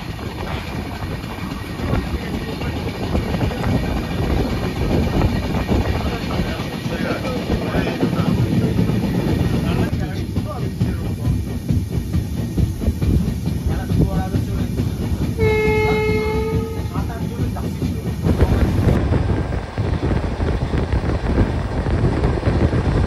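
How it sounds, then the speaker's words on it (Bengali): The Darjeeling Mail train rumbles steadily along the rails near New Jalpaiguri with a continuous rolling clatter, and a train horn sounds briefly midway through. "ফাইনালি 8টা 20-তে আমাদের ট্রেন এসে থামলো এনজিপিতে"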